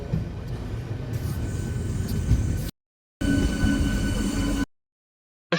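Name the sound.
train travelling to Digha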